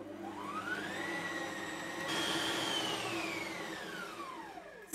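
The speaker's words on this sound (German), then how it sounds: "Diese Teig kann man mit der Maschine machen oder kann man auch per Hand." A kitchen machine kneads dough for soft raisin buns with a close, steady motor whir that climbs in pitch, jumps up briefly and then slowly winds back down.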